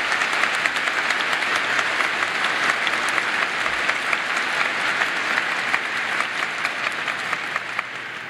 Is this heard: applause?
yes